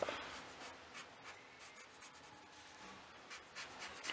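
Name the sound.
coloring a drawing with felt-tip markers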